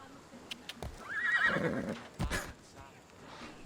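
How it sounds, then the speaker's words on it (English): A horse in the video game Assassin's Creed Odyssey gives a single drawn-out whinny, close and clear, with light hoof clatter before and after. "The horse is neighing when I press that button specifically."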